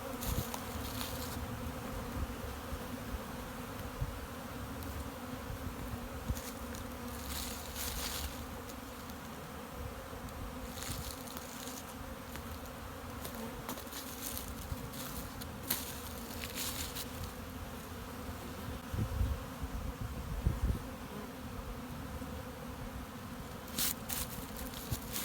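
Honeybees buzzing steadily around pollen and sugar syrup feeders outside winter hives, a dense continuous insect drone with occasional louder passes of individual bees close by.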